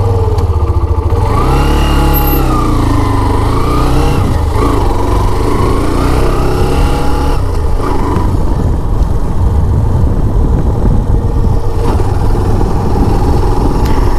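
A Hero Xtreme 125R motorcycle, a 2026 dual-ABS model, runs loud and close, a steady engine drone whose pitch rises and shifts as it pulls away and keeps riding for the whole stretch, with no talk over it.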